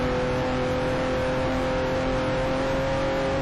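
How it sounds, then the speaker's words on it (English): Steady engine drone of a racing car in the Speed Dreams video game on the Monza circuit, held at a constant pitch with a sustained tone throughout, no braking change or talking evident. "I have to brake for a chicane up here"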